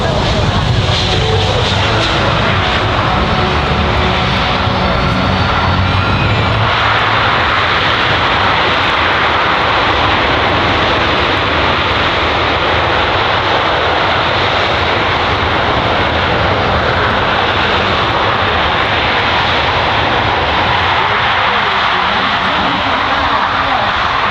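A C-17 Globemaster III military transport aircraft making a short landing at an airshow, its loud jet engine roar filling the scene continuously and close, with a shift in tone partway through.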